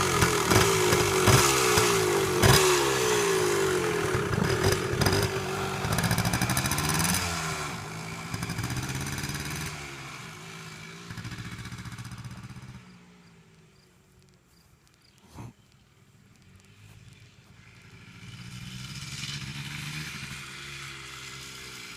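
A 1990 Yamaha RT 180 two-stroke vintage dirt bike starts and rides around, its buzzy engine loud and revving up close, then fading as it moves off, dropping quiet briefly before building again as it returns.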